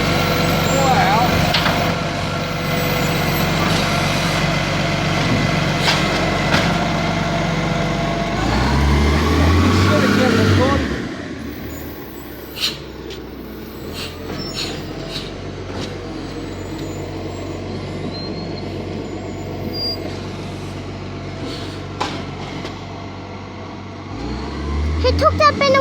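A garbage truck lifts and tips a wheelie bin, its engine and hydraulics loud and close, with a rising mechanical whine, clunks and hisses from the lift arm, while people talk over the machinery.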